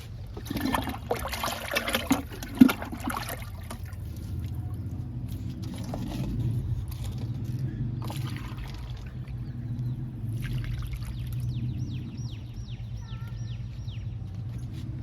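Liquid fertilizer poured onto garden plants after rain makes a soft, close trickle and patter that runs on and off, with no voices.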